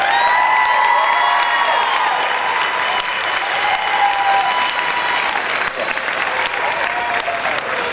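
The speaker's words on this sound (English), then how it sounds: "please give them a round of applause" Crowd at a Navy air show at NAS Oceana applauding, dense sustained clapping with scattered cheers and whoops, and a public-address voice carrying over the top.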